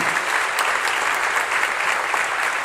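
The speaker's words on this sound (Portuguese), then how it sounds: "Aplauda o nome do Senhor por essa verdade." Loud, dense congregation applause during a Portuguese-language church sermon, sustained evenly throughout with no voice over it.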